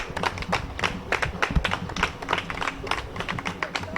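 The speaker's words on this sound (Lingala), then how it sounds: "Si nous pouvons acclamer pour cela." Audience applauding at a political anniversary gathering in Congo, a dense, steady patter of many hands clapping close by for several seconds.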